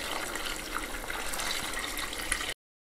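Water pours over lime in a container to make lime wash, a steady, soft hissing splash that runs continuously and then cuts off abruptly.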